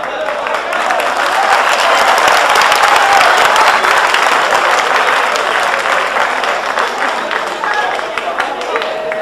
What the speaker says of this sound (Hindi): अगर ये तालियां मेरे लिए बजी हैं तो बहुत बहुत शुक्रिया